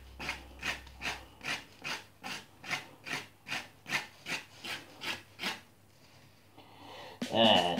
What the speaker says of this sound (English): You can use a spoon as well to scrape all the gooiness off.